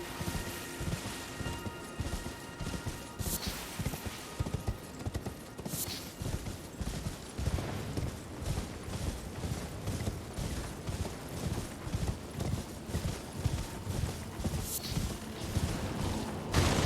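A horse gallops in the video game Elden Ring, with rapid rhythmic hoofbeats thudding steadily and close for the whole stretch, a few brighter sharp game effects popping through and faint rain-like hiss behind.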